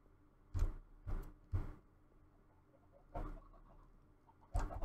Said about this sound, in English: it automatically hatches chickens